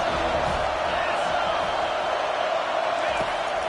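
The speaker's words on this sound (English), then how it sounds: "this crowd is turning it up a notch" Stadium crowd at a football game roars steadily during a late drive near the red zone, a dense, loud wall of cheering with a commentator talking over it.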